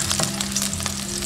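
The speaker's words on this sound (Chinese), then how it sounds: "锅中加入食用油，下入葱白" Scallion whites sizzle and fry in hot cooking oil in a wok, a steady close crackle with a few sharper pops and no talk.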